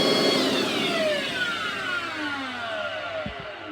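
An old Hoover SteamVac carpet cleaner runs with a loud motor whine that winds down, its tones sliding steadily lower as it spins down, with a couple of soft knocks near the end.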